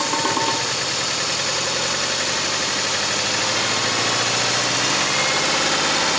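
A four-cylinder engine misfiring on only two cylinders, running steadily with a rough, uneven knocking idle and vibration, loud and close throughout with no voices.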